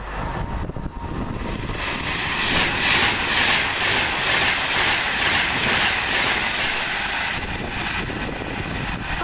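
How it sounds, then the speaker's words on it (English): A Virgin Trains service from Birmingham New Street to London Euston rushes past at Kings Langley, a loud sustained roar of wheels and rail that swells and holds for several seconds. "Next up for Virgin Trains, 1 Bravo 17 off Birmingham New Street going to London Euston."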